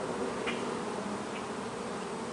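Honeybees buzz on a hive frame during a summer varroa mite check, a dense steady drone close by with no talk.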